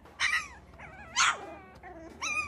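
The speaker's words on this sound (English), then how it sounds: "you will be eaten by these dogs" Dogs snarl and yelp in three harsh, whining bursts at close range, with snapping, strained calls between them and no speech, as a pack attacks.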